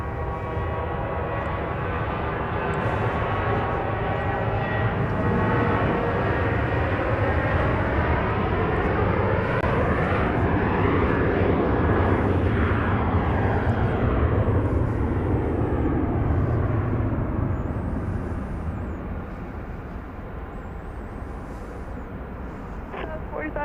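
A fixed-wing airliner comes in to land on runway 31 right at Dallas Love Field in the early morning, its loud, steady engine roar swelling and then slowly fading, with a faint voice audible in the background.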